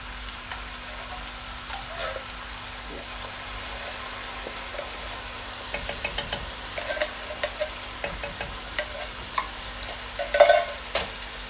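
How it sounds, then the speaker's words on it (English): A pan of prawn curry sizzling steadily as coconut milk goes in, with a soft continuous fry hiss under scattered spoon scrapes and taps from stirring, growing busier toward the end. "So I will start putting my coconut milk in there."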